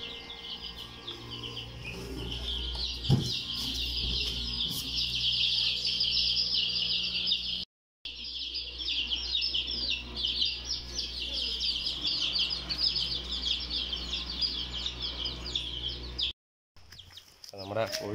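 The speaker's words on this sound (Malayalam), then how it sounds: "ഇതാണ് നമ്മുടെ കോഴിക്കുഞ്ഞുങ്ങൾ" Many chicks chirp continuously near a small chicken coop, a dense high-pitched peeping chorus close by, with a brief thump and two short dropouts in the sound along the way.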